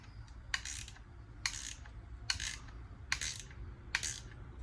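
A bolt being tightened on a twin-cylinder oil-free air compressor gives five sharp ratchet-like clicks at a steady interval of about a second, fairly quiet over a low background hum.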